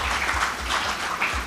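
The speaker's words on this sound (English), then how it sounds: "Keep clapping, keep clapping." Audience applause at an event, a dense steady patter of many hands clapping close and fairly loud, with a low background hum throughout.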